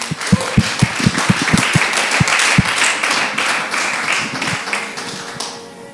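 Audience at a Bible school graduation session in church applauding and cheering for Jesus, starting with sharp separate claps that swell into dense steady applause and cheering, then fading out near the end.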